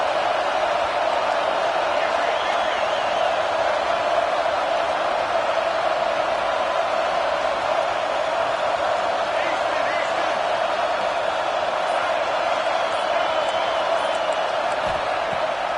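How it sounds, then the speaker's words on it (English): A home crowd at a football game roars steadily on third down, a dense, continuous wash of cheering that holds at an even level throughout. "Here comes this home crowd as the defense tries to get off the field on 3rd down."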